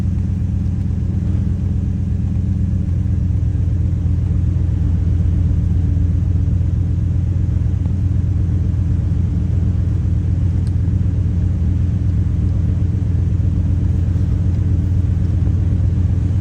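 A Ford Raptor truck with a blown head gasket idles while warming up, giving a steady, continuous low engine rumble that holds close and even throughout with no talking.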